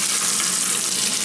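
Croaker fish deep frying in a pot of hot oil, a loud, dense, continuous crackling sizzle heard up close with no voices.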